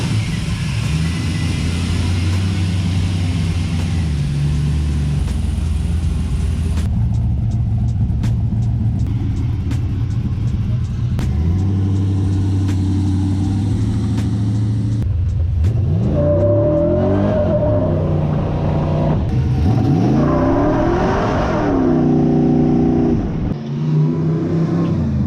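LS-swapped Jeep on a test drive, its V8 engine rumbling loud and close, then revving hard through rising accelerations with shifting pitch, ending in a brief lift-off.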